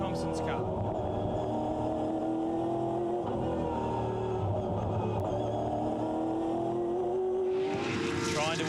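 Onboard a 2007 Fujitsu V8 Supercar Series car racing at Wakefield Park, a bumpy little circuit, the V8 engine holds a loud sustained drone with rising and falling revs through gear changes, under a commentator's steady talk.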